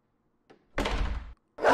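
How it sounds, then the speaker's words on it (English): A video game door opens with a faint click followed by a heavy, fairly loud sliding thunk lasting about half a second, then another loud noise begins right after. "Can I open the door?"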